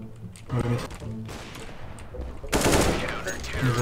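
An AK rifle firing in CS:GO competitive play, loud bursts of gunfire and broadband crackle over game ambience, with a heavier burst near the end.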